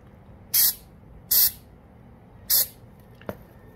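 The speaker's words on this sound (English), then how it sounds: "So I'm gonna spray this on the outside and the inside, on the crack and the hole." Gorilla Waterproof Patch and Seal spray applied to a crack, heard as three short, close hissing bursts from the aerosol can followed by a faint click.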